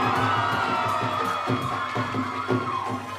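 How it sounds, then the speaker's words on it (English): Guests at a wedding reception game loudly cheer, whoop and yell together, a continuous roar of excited voices with bursts of shouting rising above the crowd. "give her a big round of applause"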